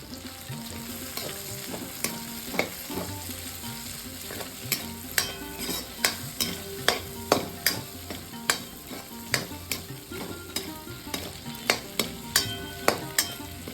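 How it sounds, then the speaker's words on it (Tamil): Okra sautéing with tomato in a pan makes a continuous sizzle, with a spoon stirring in quick, rhythmic scrapes and taps against the pan, denser in the middle. No talk. "இப்போது இதை வெண்டைக்காயும் சேர்த்து வதக்கிக்கலாம்"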